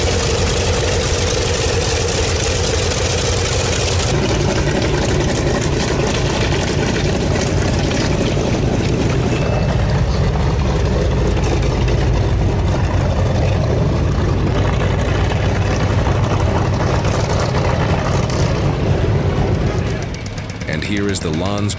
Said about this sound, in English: 18-cylinder radial engine roars to life, bursting into powerful power.